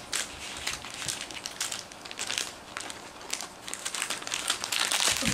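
Plastic toy packet crinkling and rustling close by as scissors work at it, a steady run of crisp crackles with brief pauses and no talk over it.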